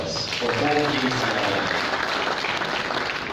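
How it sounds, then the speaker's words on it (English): Audience applause at a launch event: steady, broad clapping that follows a brief bit of speech at the start. "Let us please give them a round of applause for both these."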